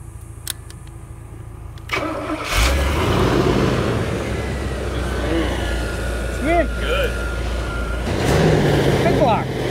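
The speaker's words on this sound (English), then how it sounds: "See if it'll do a burnout." A 1955 Chevy COE motorhome chassis starts up and roars into a burnout, the loud engine growling steadily with rising revs and tire squeal, and people speak briefly under it.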